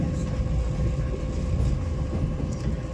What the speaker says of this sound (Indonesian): Perjalanan kereta api Pandalungan kini telah tiba di stasiun Surabaya Gubeng